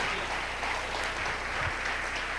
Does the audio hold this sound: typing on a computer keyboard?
no